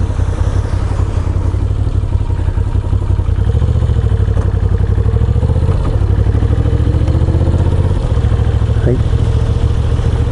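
A Moto Guzzi V7 motorcycle engine runs steadily with a low, continuous throb and slight clatter, close and loud throughout on a cold late-season ride, with a brief voice heard.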